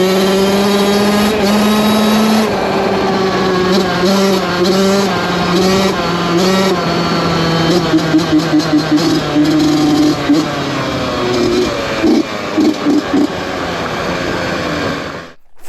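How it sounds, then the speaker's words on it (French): A 1982 Honda CR motorcycle fitted with an FMF exhaust revs loudly and close by, its engine note holding a steady drone that rises and falls in pitch, then breaks into quick throttle blips before cutting off abruptly. "Tu tournes la poignée et le FMF il chante comme jamais."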